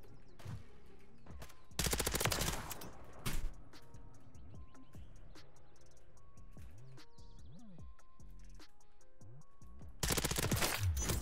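Gunfire from a teammate in the Modern Warfare 3 Search and Destroy mode on the Quarry map, two short loud bursts of automatic fire separated by a long quieter stretch of game ambience, with a few fainter shots between.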